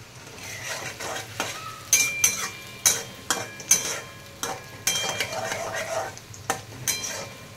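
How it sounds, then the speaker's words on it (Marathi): Onions and garlic fry in a pan for a spicy chicken dish. They sizzle steadily up close while a spoon stirs them, scraping and clinking against the metal in a repeated, uneven rhythm. "थोड्या वेळ आपण कांदे भाजून घेऊया अगोदर, तोपर्यंत लाल होत नाही तोपर्यंत. लसूण पण टाकूया आपण त्यामध्ये."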